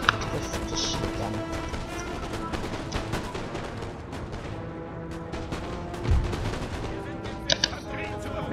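Musket volleys and scattered gunfire from a Napoleon: Total War battle, a dense crackle of shots running throughout with sharper louder reports near the end.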